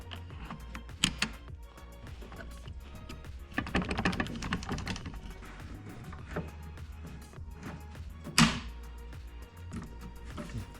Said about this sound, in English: It just slides in and click.